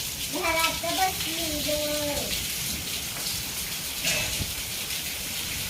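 Rain pours down in a constant hiss, with a voice speaking briefly near the start and another short voice later.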